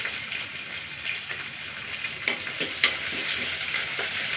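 Crushed garlic, curry leaves and dried chillies frying in hot oil for a Palakkad-style dish, a steady close hiss and crackle with a few sharper pops, no voices.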